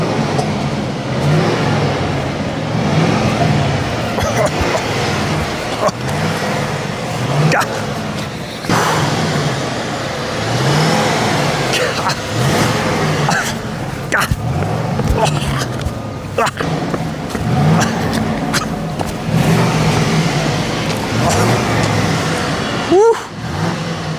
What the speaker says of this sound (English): Give her a little bit of a rev.